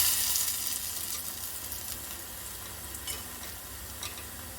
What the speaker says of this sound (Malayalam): ഉള്ളിൽ എണ്ണ കയറി നല്ലപോലെ വറുത്ത് കിട്ടും